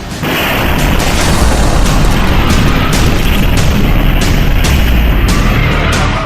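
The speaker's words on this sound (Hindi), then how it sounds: "धमाका बहुत बड़ा था, आवाज बहुत ज्यादा हुई" A massive drone-strike explosion in Tel Aviv roars loudly and continuously, a deep rumbling blast that fills the scene for several seconds.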